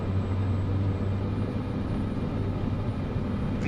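Airliner engines spooling up on the takeoff roll in Microsoft Flight Simulator, a steady low rumbling drone with a faint high whine above, continuous and fairly loud.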